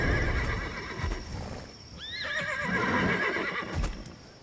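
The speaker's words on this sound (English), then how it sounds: "The horses won't budge thanks to that scary lot." Horses in Black Desert Online give a clear whinny that rises and falls near the middle, with soft hoof movement and outdoor game ambience around it.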